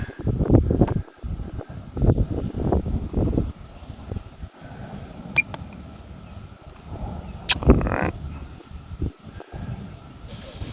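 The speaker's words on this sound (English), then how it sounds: "The wind is whipping through the building kind of dangerously." Wind whips through an abandoned power plant building in strong, gusty rushes and low buffeting, loud and close, with scattered rattles and clanks.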